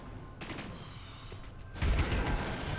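Gunfire bursts out in the video game The Anacrusis, quick rapid shots in two flurries, the second louder and denser, over a busy game background.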